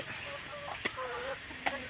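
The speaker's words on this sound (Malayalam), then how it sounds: "ഇതാണ് ഇവിടുത്തെ കോഴികൾ" Backyard chickens cluck softly at a distance, with a couple of sharper clucks standing out above a low, steady background.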